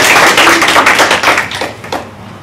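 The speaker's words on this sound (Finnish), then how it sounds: "vielä oikein kunnon aplodit" Audience applause after a song at a community day event, a dense burst of many hands clapping that starts loud and thins out, fading toward the end with a few scattered claps.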